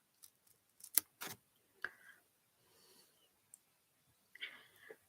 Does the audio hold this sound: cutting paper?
yes